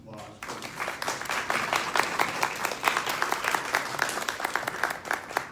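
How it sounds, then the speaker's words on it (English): An audience at a community discussion on lowering prescription drug costs breaks into applause, a dense wash of clapping that begins abruptly and holds steady and fairly loud for several seconds. "I really wish everybody would give you a round of applause."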